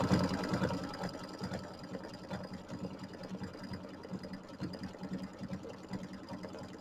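An embroidery machine runs a decorative stitch with a quiet, fast, even mechanical chatter that keeps going throughout, alone with no talking.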